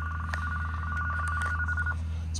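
A hotel room desk telephone's electronic ringer trills steadily for about two seconds at a mild, moderate level over a low room hum, then stops.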